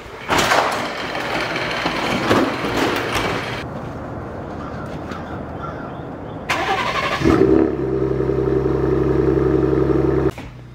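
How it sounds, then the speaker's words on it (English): A truck engine cranks and catches around the middle, then settles into a steady low idle, with some clunks and rustling before it. "I gotta go start the truck so I can warm up for a sec."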